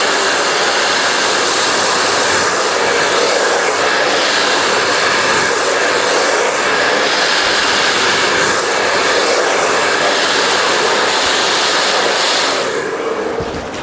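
A hair dryer blows loud and continuous while hair is blow-dried for a razor or feather cut, a steady close rushing roar that dips only at the very end.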